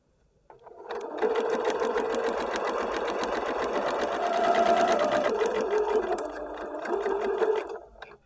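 Sewing machine running a straight seam with a magnetic seam guide set 5/8 inch from the fabric edge, a close continuous whirring hum that starts up, holds steady for several seconds and stops.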